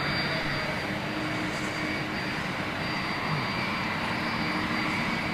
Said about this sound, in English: Familiar sound of the RB211s that we're so used to hearing as they taxi up for departure on 27 right.